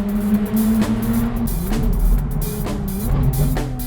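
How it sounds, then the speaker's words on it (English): A Ferrari 430 Scuderia engine rumbles while sharp exhaust pops and burbles crackle at irregular intervals on downshifts, loud and close. "The little pops and burbles that you get when you're downshifting"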